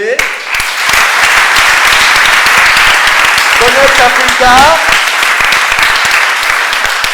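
A theatre audience applauds steadily with dense, sustained clapping, loud and close, while a voice on stage speaks over it.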